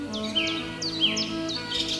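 Songbirds chirping outdoors in daylight, several short rising tweets spaced through the moment over a faint steady background hum.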